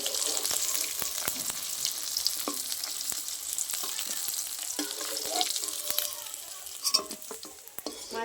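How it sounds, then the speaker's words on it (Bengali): Whole cumin seeds crackle and spit in hot oil left over from frying shol fish, a steady close sizzle with scattered sharp pops and a few utensil taps. "ভাজার তেলে আমি দিয়ে দেবো গোটা জিরে ফোড়ন।"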